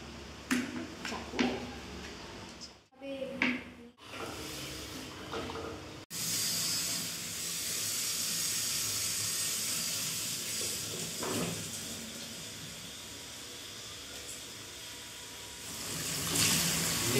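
Rice and potatoes boiling in separate pots on a kitchen stove, a broad steady hiss and bubbling wash of steam running continuously, briefly interrupted near the start, fairly close and even in level.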